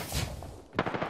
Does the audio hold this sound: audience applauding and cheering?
no